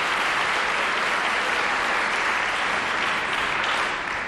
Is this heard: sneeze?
no